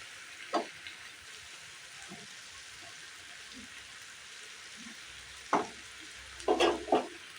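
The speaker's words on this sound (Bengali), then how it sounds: "সবজিগুলো একটু হালকা করে ভেজে নেব" Vegetables fry quietly in a pan under a soft, steady sizzle, with a few louder scrapes and clinks from stirring scattered through.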